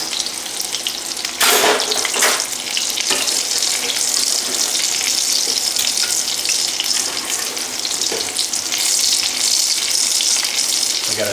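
Fish fillets and chips sizzle in a frying pan with a loud, constant hiss and crackle, close up, with occasional sharper spatters.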